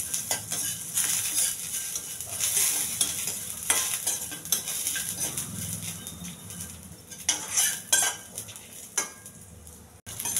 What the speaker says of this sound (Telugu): కొద్దిగా శనగపప్పు, కొంచెం జీలకర్ర, ఇవన్నీ బాగా వేయించాలి.